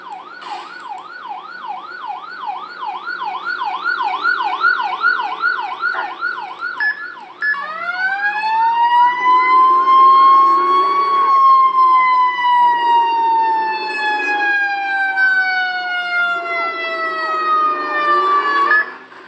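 A video-game fire truck's siren wails in a fast rising-and-falling cycle, then switches to long, slow descending sweeps, loud and continuous for about nineteen seconds.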